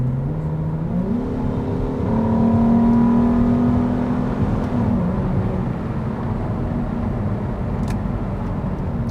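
A 2003 Acura 3.2CL with its J-series V6 accelerating from inside the car, a steady droning engine note that rises in pitch, holds through an upshift, then settles into a smooth cruise hum, loud and close.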